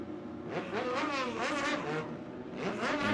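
A Legend race car refiring after spinning to a stop against the turn 2 wall at Auburndale Speedway, its engine note rising and falling in revving sweeps, loud and close, with brief lulls between bursts.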